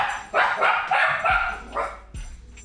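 Nori the dog barks in a quick run of sharp, close barks, then lets out one more after a short pause.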